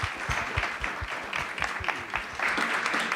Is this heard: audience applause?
yes